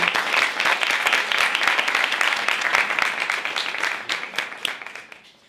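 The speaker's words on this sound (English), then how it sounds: "Please just give them a hand of applause" An audience at a Dragons' Den style pitch event applauds the brands about to present. Dense, continuous clapping fills the room at a steady level, then thins and tapers off near the end.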